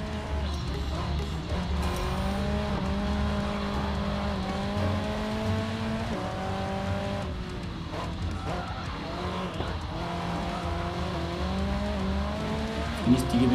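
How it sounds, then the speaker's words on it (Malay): Race car engines rev and whine in the video game Racing Master, with shifting engine tones, tire squeals and skids layered over steady background game music. "feel the Windy City's pulse as drivers rev up their engines"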